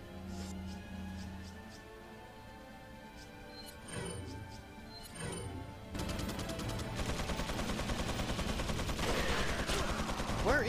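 Gunfire from a sniper in the video game Resident Evil 4: a couple of sharp isolated shots, then a dense, continuous stream of rapid rattling fire building over the last few seconds.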